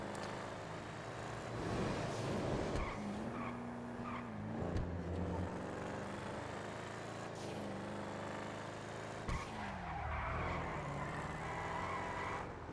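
Benny's Sabre car in a video game revs hard with its tires spinning and sliding, a loud, steady engine roar with rising and falling pitch running the whole time and no voices.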